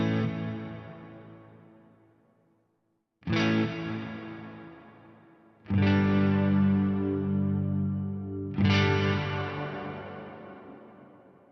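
GFI Specular Tempus pedal on guitar chords, giving a detuned, Doppler-like ambient wash: three strummed chords swelling and smearing into long, wavering, effect-laden sustains.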